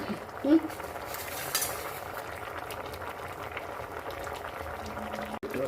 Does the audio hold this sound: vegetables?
yes